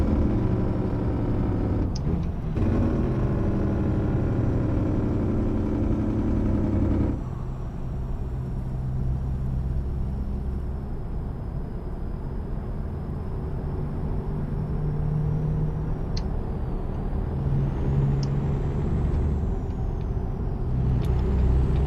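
V8 Scania truck engine in American Truck Simulator, a steady low rumble with sharp air-brake hisses early on, the drone continuing evenly after the engine note drops around the midpoint.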